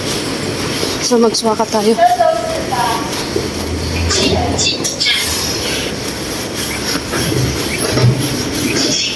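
Train arriving at a station in Zhongli, Taiwan, with a rumbling approach, clattering wheels and brief squeals, loud and nearby, while people talk over it throughout.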